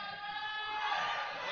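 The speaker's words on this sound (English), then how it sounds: "Crowd's cheering for Seth." A crowd cheers for a climber at a provincial lead and top rope climbing competition, a steady distant roar of voices and whoops that swells slightly midway and holds throughout.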